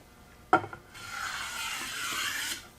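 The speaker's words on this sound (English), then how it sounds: "I'm just going to chamfer these corners. I'm not really even going to round them. I just want a very slight chamfer." Hand tool chamfering the corners of a wooden trestle horse, one sharp knock followed by a long, light rasping stroke across the wood, close and fairly quiet, with no voices.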